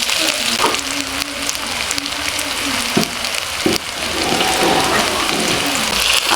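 Onions fry in a pan for an aloo dum dish, giving a loud, dense, continuous sizzle with a few sharper crackles and no talking.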